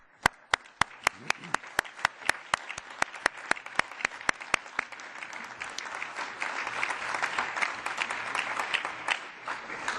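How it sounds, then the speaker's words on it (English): Audience applause at a Slow Food conference at the EU Parliament on CAP reform, opening with a run of loud, evenly spaced individual claps that swell into a dense, sustained ovation from a large crowd. "A big applause for them."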